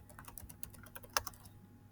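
Quick, uneven keystrokes on a computer keyboard while typing text for a coding lesson, soft clicks in a steady patter with one sharper tap, close and quiet, with no speech.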